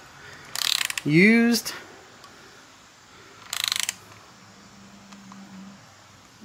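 A torque wrench clicks on reused engine head bolts, two short bursts of sharp ratcheting a few seconds apart, with a brief spoken word between them and a quiet room otherwise.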